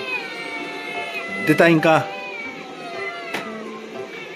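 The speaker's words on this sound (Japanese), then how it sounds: "はい、子猫ちゃんたちです。" Small kittens give a few high, thin meows, loudest in one short burst near the middle. Someone talks softly through most of it, and a faint cry follows later.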